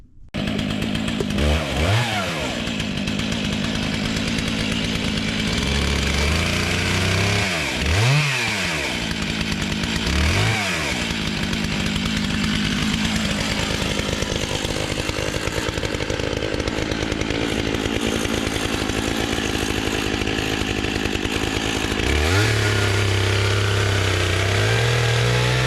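A Stihl MS661 chainsaw drives a Granberg Alaskan sawmill through maple, giving a loud, continuous engine roar with several rising and falling rev swings early on and a sustained cutting drone throughout.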